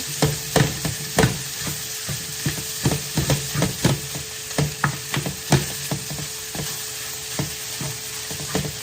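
Cooked meat sizzles and fries with onions, garlic and spices, broken up and stirred with a utensil that scrapes the pan in repeated sharp strokes over a steady close sizzle.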